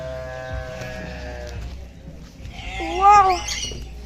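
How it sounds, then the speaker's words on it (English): A goat at a zoo lets out a wavering, nasal bleat near the end, preceded by faint animal sounds and low background noise, fairly close and loud. "There's a goat in there."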